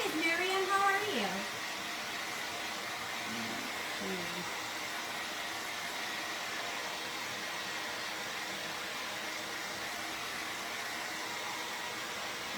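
A hair dryer blows over a transfer with a steady, airy hiss that runs the whole time, after a brief burst of voice at the start.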